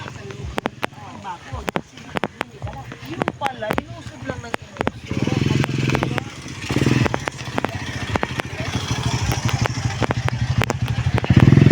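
An oncoming motorcycle approaches and passes close by on a narrow single-lane path at dusk, its revving rising and fading amid wind buffeting and clicking noises.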